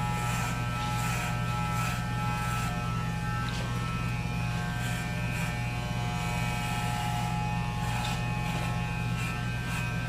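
A strong electric hair clipper motor hums with a constant, loud, close buzz, broken by faint rhythmic strokes as it cuts hair, and no talking is heard.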